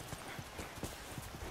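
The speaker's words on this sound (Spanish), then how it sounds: "Vigila el caballo." A horse's hooves clip-clop in The Last of Us, a quick, steady run of close hoof strikes continuing throughout, with no talk.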